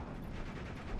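Tank gunfire in the Steel Division 2 war game, with 3rd Armored and 20th Panzer forces fighting around Slutsk East: a dense, continuous low rumble of distant shots and battle noise with no distinct single blast, and no talk.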